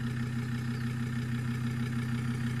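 Jeep Grand Cherokee 2.7 fitted with a straight-through exhaust idles in a steady, even low rumble that holds without any revving.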